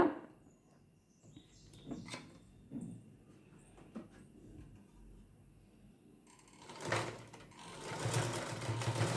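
Sewing machine stitching a half petticoat, with bursts of rapid mechanical running, the loudest and longest toward the end, between quieter handling sounds.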